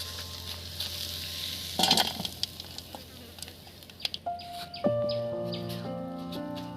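Bitter gourd and potato are tipped into a hot pan with a burst of hissing sizzle, followed by scattered clatters and steady frying, with a sustained electronic tone entering near the end.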